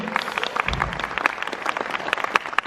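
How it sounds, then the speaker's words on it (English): Scattered audience applause at a Dollywood Harvest Festival stage show, a few seconds of mixed clapping with sharper individual claps standing out, moderately loud and steady. "Give her a round of applause, y'all."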